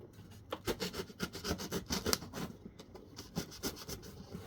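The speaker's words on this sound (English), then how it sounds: "sometimes the cardboard will kind of fold in on the inside when you're cutting" A blade slices through a cardboard box close up, giving a steady run of scratchy, rasping cuts with no talking.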